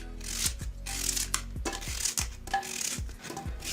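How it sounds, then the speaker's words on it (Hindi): An onion is chopped into a pressure cooker for dal and rice in a village kitchen in Mazra Madinah, Saudi Arabia. Roughly eight close, crisp knife cuts fall at an uneven pace, fairly faint. "और अब मैं जो है बसल काट रहा हूँ"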